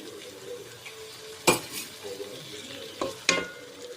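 Three tomatoes go into a pan of fried ginger-garlic paste for biryani: a soft, low sizzle with stirring, punctuated by a few sharp clanks of a spoon against the pan.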